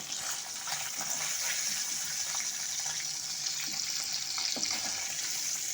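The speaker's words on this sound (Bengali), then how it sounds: "পনিরটা আমি হালকা লাল করে ভেজে নিয়েছি এখন আমি পনিরগুলো তুলে নেব" Paneer fries in hot oil while pieces are lifted out of the pan, a steady close sizzle with soft scraping and clinks scattered through it, with no talk.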